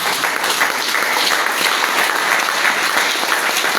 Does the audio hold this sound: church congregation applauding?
yes